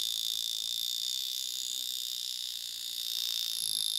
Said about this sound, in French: les Vulcain Cricket, les montres à réveil